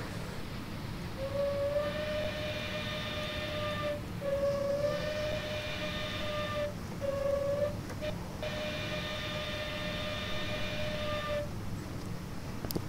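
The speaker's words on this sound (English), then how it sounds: "Yeah, the whistle could use some work." A simulated PRR I1 2-10-0 Decapod steam locomotive whistle from a train simulator game gives several long, steady multi-tone blasts with short breaks, over a constant rumbling engine background.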